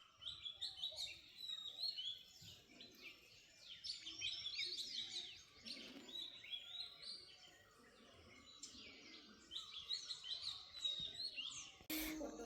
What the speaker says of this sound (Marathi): पक्ष्यांचा किलबिलाट ऐकू येत होता.